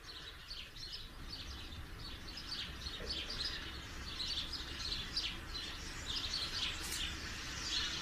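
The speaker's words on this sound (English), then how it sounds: "birds." Soft, high chirps from several birds repeat over a quiet, low background hum, fairly distant.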